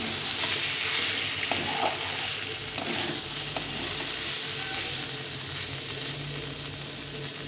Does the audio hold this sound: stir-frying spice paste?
yes